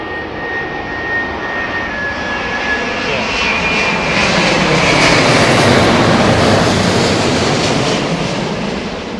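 Jet engines on an airliner arriving from Las Vegas power up during a gusty landing at Heathrow, a loud sustained roar that swells toward the middle and eases slightly at the end.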